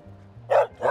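Dogs at a crowded off-leash park in Toronto let out two quick, close barks after a low murmur, short and loud, with no talk over them.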